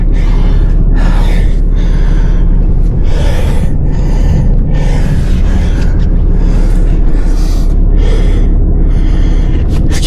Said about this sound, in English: Excuse my heavy breathing.